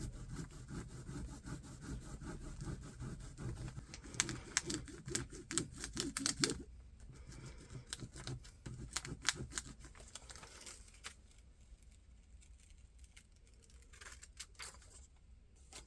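Burnishing an image transfer onto fabric: quiet, rapid scraping and rubbing strokes in irregular bursts, close up and faint, with no talking.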